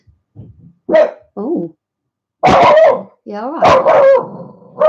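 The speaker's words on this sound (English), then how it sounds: "That's my dog barking at my fence panel," A dog barks at a fence panel on a very windy day, several sharp loud barks and yips in bursts, close by, with a person talking between them.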